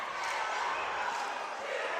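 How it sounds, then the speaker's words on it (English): A high school boys basketball crowd at an El Segundo versus Santa Monica game, a steady, dense roar of cheering from the stands filling the gym. "Cameron gets his first touch, and this crowd goes crazy."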